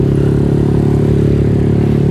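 A motorcycle ridden slowly, recorded on a clip-on microphone inside a half-face helmet with the visor closed, producing a loud, steady, muffled engine drone with a deep, even low-frequency throb and no talking.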